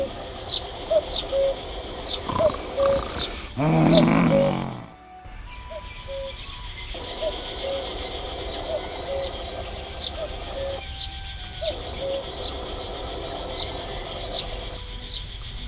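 A cuckoo calls inside the point-and-click game The Night of the Rabbit, with evenly spaced repeated notes over a night ambience of chirping insects, briefly broken by a louder rustling burst partway through.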